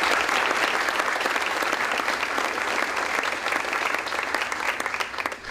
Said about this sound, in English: So a round of applause for her efforts.